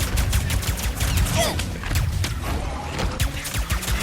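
Rapid triple-shot weapon fire in the Ratchet and Clank: Rift Apart video game, a loud dense fusillade of bursts with crackling impacts filling the whole stretch.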